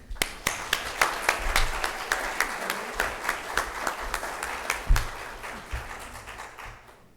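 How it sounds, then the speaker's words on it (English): Applause from a Sunday lecture audience welcoming Rev Diane Davis, dense clapping with distinct sharp claps standing out, steady for several seconds before thinning toward the end. "So please, this should be a big round of applause for Rev Diane Davis"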